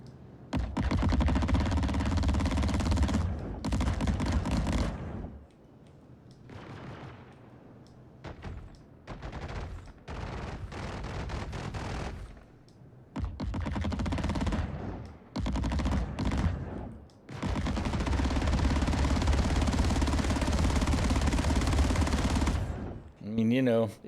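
Rapid Gatling fire from TMS B5 wing guns on a ship in Star Citizen, set at 1750, rolls out in long loud sustained bursts separated by short pauses, with a voice talking at times between them.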